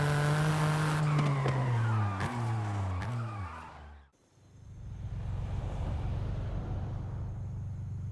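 Ford Fiesta ST with its front-mounted three-cylinder engine roars through rising gear shifts in Forza Horizon 5, then cuts abruptly to a steadier, rougher engine drone with tire noise, loud and close throughout.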